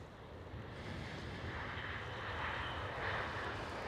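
Distant jet engine rumble of a German Airways airliner at Schiphol Amsterdam airport, a faint, steady broadband roar that swells slightly over a few seconds with a touch of wind.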